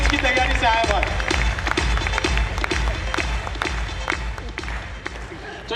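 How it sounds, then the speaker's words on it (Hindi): Dense, steady applause from an audience at a Kangen distributors' meet in a convention hall in Indore, sustained throughout with crowd noise mixed in. "एक बार जोरदार तालियां डिंगरा साहब के लिए"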